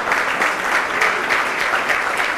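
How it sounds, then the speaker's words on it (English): A school audience at an annual day prize giving breaks into dense, steady applause, many hands clapping continuously and fairly loud. "Round of applause."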